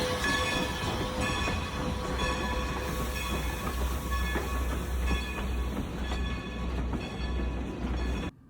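A locomotive idles steadily with a constant low rumble and mechanical hum, metallic clanks and squeaks scattered throughout as it uncouples from the train, then the noise drops off abruptly at the end.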